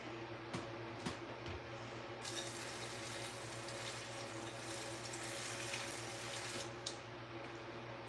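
Water from a tap runs steadily into a cooking pan, a continuous splashing stream filling it to about halfway, close and fairly quiet with a faint background hum and no talk.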